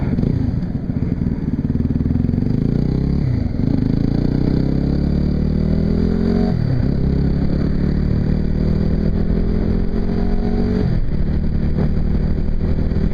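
A Yamaha WR250R motorcycle engine pulls hard on a test ride, the revs climbing steadily through each gear with three clear shifts that drop the pitch before it rises again, loud and close throughout.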